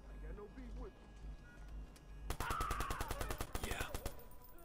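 Rapid automatic gunfire in the video game Watch Dogs bursts in partway through, a fast string of about a dozen loud shots after quieter game ambience with a voice.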